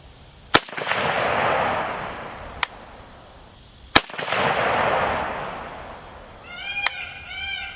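Shots from a Romanian RH10 rifle at a shooting range: four loud, sharp cracks spaced a few seconds apart, two of them followed by long rolling echoes, with a faint warbling tone near the end.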